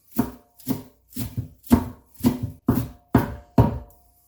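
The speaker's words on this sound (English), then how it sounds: "I'm just going to give them a little bit of a roll and then a light chopping." A knife lightly chops urad beans on a board in eight steady, evenly spaced thuds, close and crisp, with no talking.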